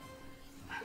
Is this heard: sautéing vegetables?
no